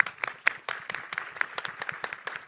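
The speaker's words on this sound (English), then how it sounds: "you may clap if you want" Applause from delegates in a plenary session of an IFMSA General Assembly: a small group clapping in a loose, steady patter of sharp hand claps for a couple of seconds, with no voices over it.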